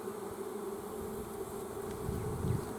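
Restless honeybees buzz steadily at a hive just after a swarm of a thousand or more was swept back inside, a dense close drone that swells slightly louder toward the end.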